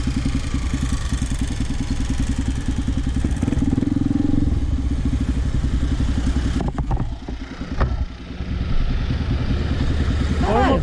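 A motorcycle engine idles and revs nearby with a steady mechanical chug and some clatter, dipping briefly near the end, while people talk over it.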